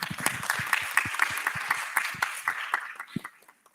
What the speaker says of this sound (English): An applause for our friends from Vietnam.